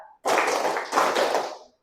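A class of students claps in a clapping game, two long sustained bursts of many overlapping hand claps, close and fairly loud, then stopping abruptly.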